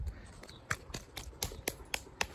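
Thick SVI animatronic shoes from a Home Depot Boogeyman figure clapped together: about eight sharp, hollow clacks in an uneven rhythm over two seconds, fairly quiet and close, with no talking.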